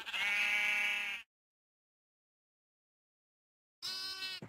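Two sheep bleats from the game Minecraft, a long wavering baa followed after a silent pause by a second shorter one, clear and close with nothing else around them.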